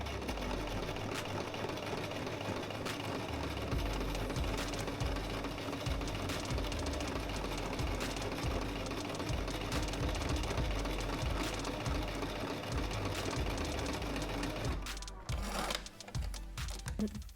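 A sewing machine runs a steady, fast, rhythmic stitch for about fifteen seconds while sewing the second line of a double seam along the fabric, then stops, leaving a few faint handling clicks.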